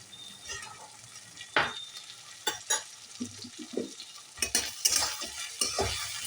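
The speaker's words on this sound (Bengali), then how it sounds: "এই মশলাটা আমি কষতে থাকবো খুব ভালোভাবে।" Ginger and garlic paste frying as a masala for a Bengali jackfruit curry, stirred with a spoon: soft sizzling under irregular scrapes and clinks against the pan, busier toward the end, with no talk.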